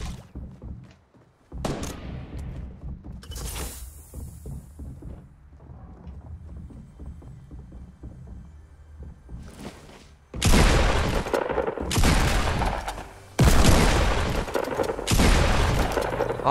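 Shotgun blasts in the Fortnite video game ring out as several loud, heavy booms in the second half, following quieter game ambience and scattered thuds.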